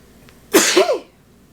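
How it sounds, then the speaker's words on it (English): A single forceful sneeze bursts out loudly and close, with a sharp explosive onset, followed by quiet. "That was a hard sneeze"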